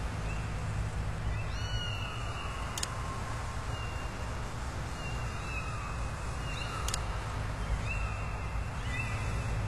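Kittens in Sam & Max: Save the World meow in a few faint, high calls spread across a steady background hum, with no talking.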